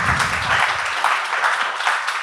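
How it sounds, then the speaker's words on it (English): Audience at a New York Film Festival talk applauds filmmakers with dense, continuous clapping that stays fairly loud throughout this short stretch. "Give them a round of applause."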